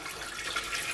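Water pours steadily into the bowl of a Mambo kitchen robot for bread dough, a close, continuous splashing stream with no talking.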